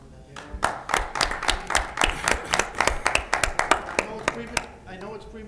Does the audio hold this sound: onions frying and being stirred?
no